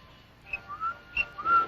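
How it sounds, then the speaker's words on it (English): A boy whistles a signal in a wartime Italian village, with two short rising-and-falling whistled calls, fairly faint and alone against a quiet background. "The boy's whistling."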